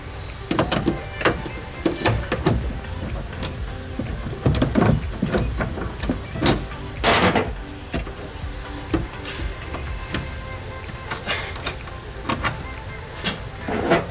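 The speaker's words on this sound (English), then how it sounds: "You're going to remove these two nuts, one on the bottom and one on the top. You do that with a 10mm socket." A 10mm socket ratchets nuts off the tail light of a Toyota 4Runner, giving irregular clicks and metallic taps with brief scraping, close and moderately loud against a steady background, with no talking.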